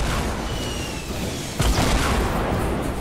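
A loud explosion bursts out in the Fortnite battle royale game about halfway through, standing out over a constant rough wash of gameplay noise.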